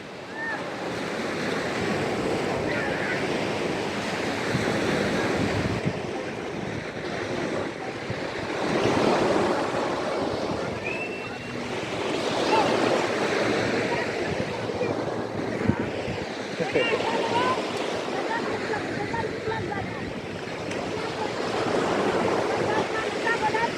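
Surf rolls in at Puka Beach on Boracay Island, a coral-strewn shore, with a continuous roar of breaking waves and gusty wind buffeting the microphone, some swells rising louder than others.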